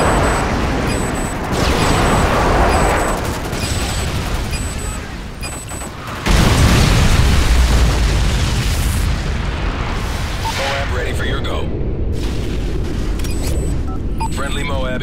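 A MOAB bomb goes off in Call of Duty, a massive deep boom erupting mid-clip over continuous gunfire and battle noise, with a long rumbling tail as the chaos carries on.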